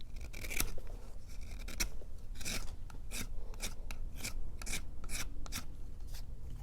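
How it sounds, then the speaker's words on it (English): A skiving knife shaves down damp leather for a belt, a close, rhythmic series of rasping scrapes repeating roughly every half second, steady and moderately loud with no talk. "So now with my knife, my skiving knife here,"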